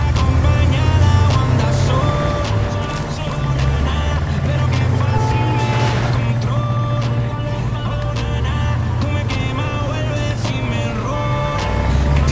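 A steady engine drone of a blue civilian car driving in Far Cry 6, loud and continuous, with layered game music and effects and occasional talk over it.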